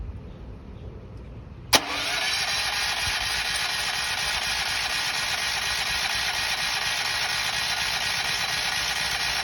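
A WEN portable generator engine catches with a sharp start after a quiet moment, then settles into a loud, steady, continuous running drone that lasts to the end.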